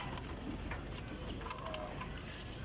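Red bar pigeons coo softly in a short, faint burst among other quiet background sounds, with no one talking.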